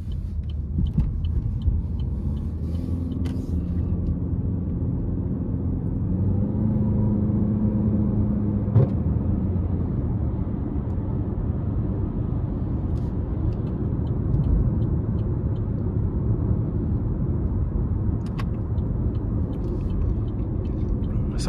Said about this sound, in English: let's go ahead and take this Malibu LS out on the road for a quick test drive.